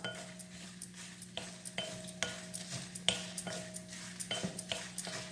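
Sambar powder ingredients dry roasting in a pan, stirred with repeated scraping and light clinking strokes in a steady rhythm, close and fairly soft, with no talking.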